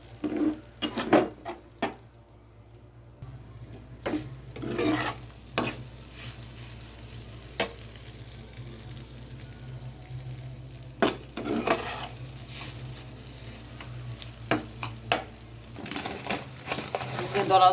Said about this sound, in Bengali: সাবুগুলো ভিজায় রাখছিলাম, ঘির মধ্যে একটু নাড়াচাড়া করবো।